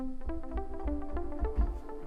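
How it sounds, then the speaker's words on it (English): A bright synthesizer plays a short, quick melody of plucky notes over a low, pulsing bass. "I have a synth from my Pack Orbital."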